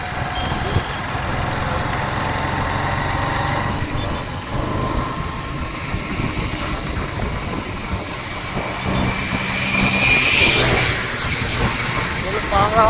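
Engine of a vehicle while riding, a steady loud rumbling drone with wind and road noise throughout, swelling slightly toward the end, with people talking over it.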